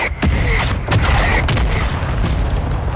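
Mortar strike explosions in a Call of Duty Hardpoint match, several loud booming blasts landing in quick succession over about three seconds, with crackling debris between them.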